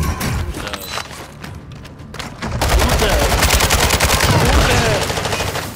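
Rapid automatic gunfire rattles in a battle royale video game, with dense bursts that grow louder and nearly continuous in the second half, while voices are faintly heard underneath.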